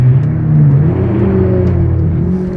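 A jet ski (WaveRunner) engine runs with a loud, steady drone that rises slightly as it revs, heard close up on the open ocean between Florida and the Bahamas.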